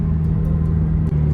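A turbocharged Chevy Cruze, back on the road after sitting about six months, produces a close, steady engine drone that holds at an even pitch with only a brief dip.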